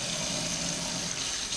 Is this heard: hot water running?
yes